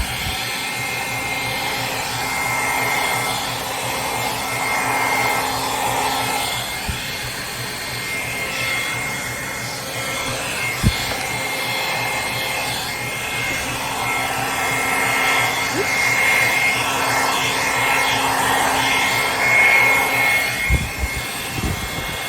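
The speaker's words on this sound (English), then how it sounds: "my blow dryer might be a little strong for these little tiny pieces" Hair blow dryer blowing steadily across small craft pieces, a continuous airy whoosh with a faint high whine, close and moderately loud throughout.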